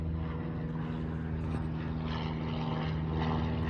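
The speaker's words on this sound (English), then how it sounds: "There's a plane." A propeller airplane drones overhead on a windy day in Frisco, Texas, a steady low engine hum with a rough wash of wind, continuous and moderately loud with no one talking.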